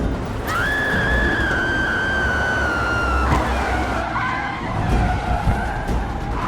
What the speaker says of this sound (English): the police car following it can't just hit the brakes. It also crashes.